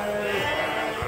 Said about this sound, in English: these are the huge Suffolk lambs